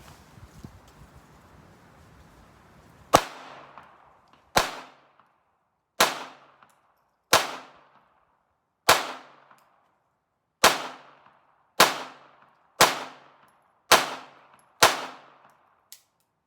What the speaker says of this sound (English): The Beretta 92 FS with a 22 conversion kit.